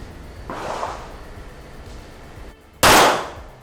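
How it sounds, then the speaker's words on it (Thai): A Smith & Wesson M&P9 M2.0 pistol fires a sharp, loud shot near the end, preceded by a softer burst of noise earlier, with the report ringing briefly afterward. "ครับผมก็ยิงจุดลงไปนะครับกับตัวสมิธแอเมสันนะกระบอกนี้ครับ"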